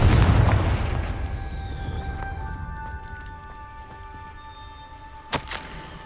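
Confringo fire spell in Hogwarts Legacy: a loud, deep explosive boom at the start that rumbles and slowly decays over several seconds, followed later by a sharp brief crack.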